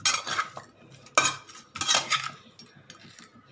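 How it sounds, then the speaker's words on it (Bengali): Rohu fish being mixed by hand with lemon juice in a bowl, giving a few soft wet clinks and rubbing bursts in an uneven rhythm, close and fairly quiet with no talking. "এবার আমি মাছটাকে একটু মেখে নিচ্ছি"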